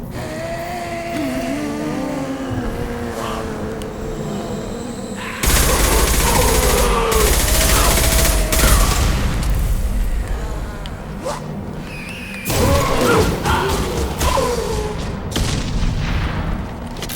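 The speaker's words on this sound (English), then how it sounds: "High-pressured gas canisters. They'd probably explode nicely." In the Mass Effect video game, high-pressure gas canisters blow up with heavy booms and sustained roaring blasts in two big surges. Loud, dense game audio carries the explosions.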